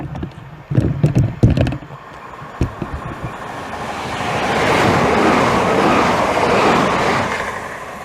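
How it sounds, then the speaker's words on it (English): Southeastern electric train passing through Swanley station, rising from a distant rumble into a loud, close roaring whoosh that swells and holds, with a few clunks and knocks beforehand. "And now approaching, getting ready to pass through is a train."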